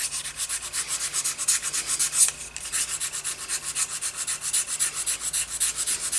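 Sandpaper of 600 grit rubbing over a steel hammer head, a steady rhythmic scratching in quick back-and-forth strokes, close and fairly quiet, with no voices.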